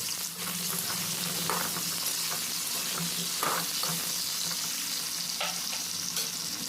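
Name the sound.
diced potatoes frying in oil in a wok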